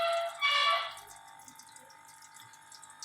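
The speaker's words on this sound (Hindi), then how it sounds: "इसके अंदर हम लोग ऑयल डालेंगे।" Oil is poured into a cooking pot on a lit flame, a short close liquid pour that fades into quiet faint crackles.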